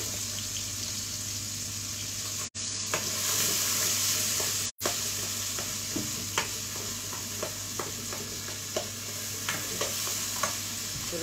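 Onions and tomato fry in a hot pot, a steady close sizzle with scattered crackles and faint utensil taps throughout, briefly cut by two short dropouts.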